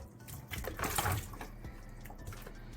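Water gushes into a container of raw chicken wings for a rinse after a vinegar-water wash, a close, loud pour swelling then easing into sloshing.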